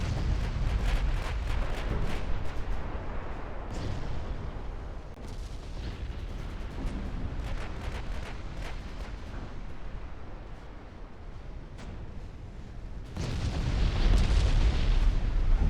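Torpedoes striking warships in the naval strategy game Ultimate Admiral Dreadnoughts, a dense rumble of booming impacts and blasts throughout, with a louder burst near the end and no talking.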